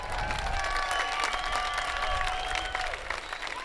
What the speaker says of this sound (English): Guys, give him a big round of applause.